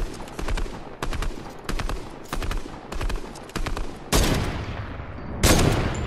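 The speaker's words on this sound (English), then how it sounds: "Yeah, try to I sniped him." Rapid sniper rifle shots crack out in a console build-and-fight battle game, a series of sharp, loud reports in quick succession, with heavier blasts toward the end.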